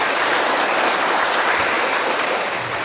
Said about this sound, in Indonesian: Tepuk tangan untuk Ibu Preses kita.